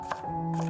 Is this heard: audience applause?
no